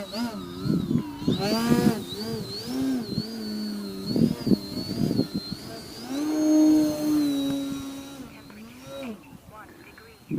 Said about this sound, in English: that's pull out, full throttle pull out.